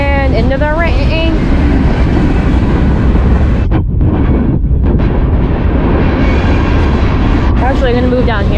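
A passenger train on Ohio's RTA line near Lakewood rumbles past loudly and close, a continuous roar with wind buffeting the microphone and brief squealing tones at the start and end, and a voice speaking over it.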